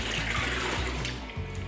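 Leftover rinse water from the milk module of a Brasilia Festa coffee machine is emptied, a steady splashing pour, close and continuous, with a few gurgling breaks.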